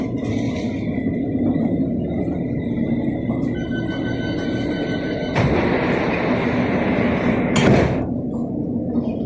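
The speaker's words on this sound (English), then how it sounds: "This is a 4-station Metropolitan Line train to Aldgate." A London Underground Metropolitan Line train running toward Aldgate, heard from inside as a loud, steady rumble with rising whining motor tones and a couple of sharp bangs from the carriage, and no talking.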